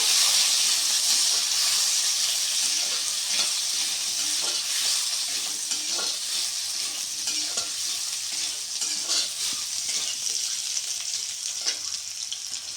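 Potatoes and onions with black cumin frying in oil, a steady close sizzle and hiss running throughout, with soft stirring scrapes recurring along the way.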